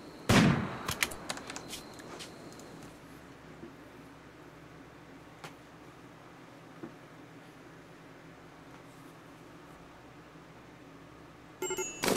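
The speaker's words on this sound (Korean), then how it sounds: "머신건 발사." Machine-gun fire in RimWorld: a dense, rapid burst opens, a few faint isolated shots follow over a steady low hum, and a short burst returns at the very end.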